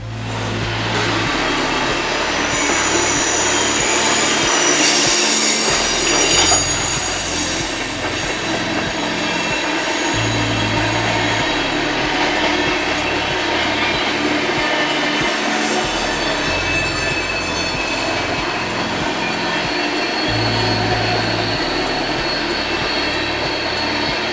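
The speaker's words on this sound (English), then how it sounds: "the mainline trains of the modern CSX continues to roll on by" A long CSX mainline freight train rolls steadily past, wheels rumbling and clacking over rail joints with shrill squealing on top, loud and continuous.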